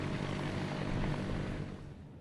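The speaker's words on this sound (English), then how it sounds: "Helicopters called heli-torches are throwing fire at designated areas to create a line to stop the fire" Heli-torch helicopters flying over a wildfire near Carmel Valley, a steady droning rotor and engine roar, fairly loud and unbroken, easing slightly toward the end.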